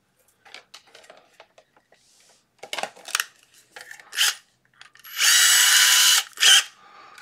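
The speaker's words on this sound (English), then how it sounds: "We can also drill a hole, that might be fine as well." Scattered clicks and taps, then a small power drill whirs in short bursts before one long, loud, steady drilling run and a final brief burst, drilling a hole in a ZX Spectrum 128 board.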